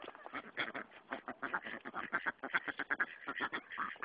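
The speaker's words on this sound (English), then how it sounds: "they like bread, so we're feeding them bread." Many ducks quack rapidly and overlapping while being fed bread at a lake, a dense, steady chorus of close nasal calls with no talk over it.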